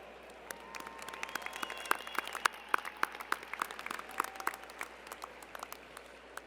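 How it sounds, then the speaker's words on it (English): Scattered, fairly faint claps from a distant crowd applauding graduates at a Drexel University commencement ceremony, individual hand claps standing out in an irregular, sparse rhythm. "we owe ourselves a round of applause"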